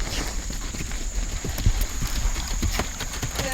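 Horse hooves clip-clopping at a steady walking rhythm, close and fairly loud over a background of outdoor noise.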